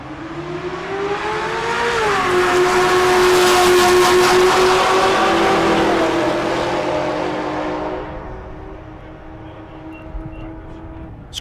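Drag race cars launch side by side, a supercharged LS Pontiac GTO and a Buick G-body wagon, engines screaming loud and close with a rising pitch before fading as they pull away down the strip.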